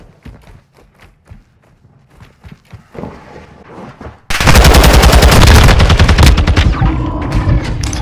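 Gunfire in Call of Duty: Modern Warfare 2: scattered single shots and taps give way to a loud, sustained automatic burst that rattles on rapidly and close for several seconds.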